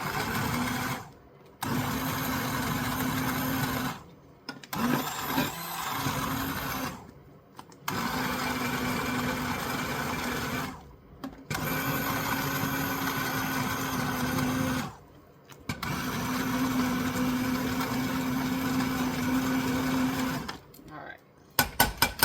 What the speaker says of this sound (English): So I'm going to get the immersion blender, turn it on low.